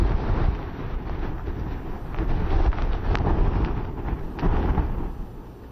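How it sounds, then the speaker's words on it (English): Powerful wind gusts during Hurricane Irma in Caibarién, Cuba, battering the microphone with loud, continuous roaring and thudding blasts that surge and ebb for several seconds without speech. "you get another gust like that. Very powerful gust."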